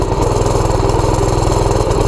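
Big block Doodle Bug minibike engine running with the choke on, a loud close rapid putt-putt idle with an even pulsing rhythm throughout and no speech.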